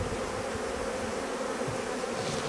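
Honey bees buzz densely around a hive, a continuous close, even drone of many wings with no pauses and no voices.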